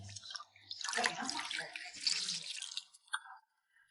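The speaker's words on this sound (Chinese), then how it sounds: "接着把浸泡过的牛肉清洗一下" Soaked beef being rinsed in water by hand in a kitchen, with splashing and sloshing up close that swells and eases over a few seconds, ending with a short drip.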